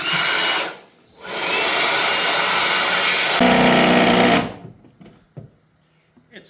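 A drill bores into limestone during a historic 1860s cottage rebuild, giving a loud, harsh grinding whine in two long runs with a brief pause between them, then stopping and leaving only faint scattered knocks.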